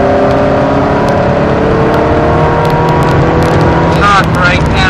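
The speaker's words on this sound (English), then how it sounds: "starting to pick up the power now, running out wide on the exit, accelerating to those double red cones" Ferrari race car accelerating hard out of a corner on the Silverstone circuit, a loud, steady engine roar with rising harmonic pitch throughout, heard from inside or close by, with a voice talking over it.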